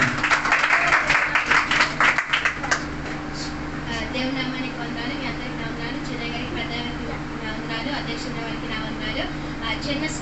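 At a youth church meeting, an audience gives a short round of clapping that fades within a few seconds, followed by a steady electrical hum with people talking over it.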